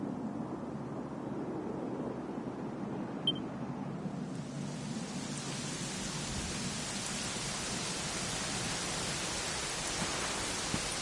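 Soft, steady rain hiss in the video game Dragon Quest XI that thickens partway through into a fuller downpour, with a faint low rumble beneath and one brief tap.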